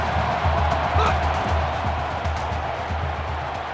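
Stadium crowd in the video game NCAA Football 13, Toledo Rockets at Oregon, a steady loud roar with a low rhythmic pulse of chanting or stomping beneath it on a third down.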